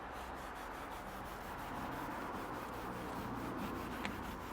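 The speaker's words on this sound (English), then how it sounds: "So we've got a scrub pad here, this side is the clean part, this side the dirty part." A scrub pad works over a car seat in quick, steady back-and-forth strokes, a soft, close rubbing rhythm at low volume with no talking.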